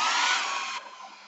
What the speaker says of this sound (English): So, hair dryer.